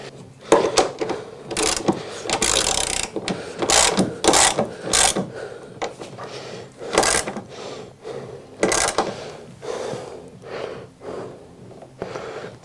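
A self-locking nut being tightened with a ratchet on a BMW E36 strut brace, loud close repeated clicking and grinding bursts in irregular strokes with short pauses between.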